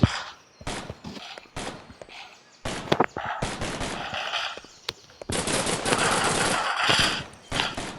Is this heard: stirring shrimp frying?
no